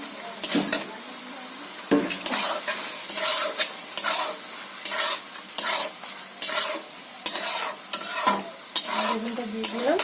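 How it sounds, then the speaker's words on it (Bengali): Eggplant fries in a spice paste in a pan, giving a steady sizzle broken by repeated scraping stirs and clanks of a utensil against the pan. "এর মধ্যে আমি বেগুনটা অ্যাড করে দেব"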